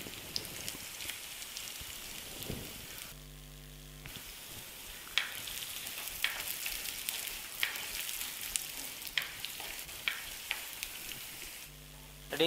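Coriander seeds frying in a pan for a traditional radish tomato chutney, a steady crackling sizzle like light rain, with scattered sharper pops and a brief break in the middle.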